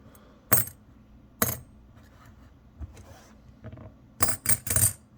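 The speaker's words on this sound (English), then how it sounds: "Silver has kind of a tinging sound." A silver coin dropped onto another Russian coin gives several sharp metallic clinks with a bright ringing ting, sounding as separate hits and then a quick cluster of strikes near the end against a quiet background.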